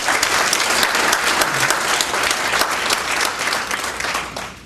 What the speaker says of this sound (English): a special round of applause to both of you for all your hard work